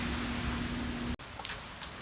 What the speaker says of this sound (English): it's raining like crazy in the city